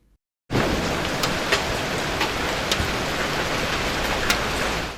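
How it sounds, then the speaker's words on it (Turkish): Torrential rain with hail in an Elazığ storm, heard as a steady broadband rush of water punctuated by several sharp impact clicks, moderately loud, with no talking. "Elazığ'da sağanak ve dolu hayatı olumsuz etkiledi."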